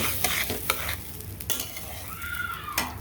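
Rice for pulao fries in oil while a spoon stirs it around the pan, giving a soft continuous sizzle broken by several scraping strokes and light clinks, close and alone without talk.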